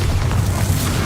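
A Bombarda explosive spell goes off in the video game Hogwarts Legacy as a loud, close booming rumble with heavy low-end that holds steady for the whole moment, with no voices.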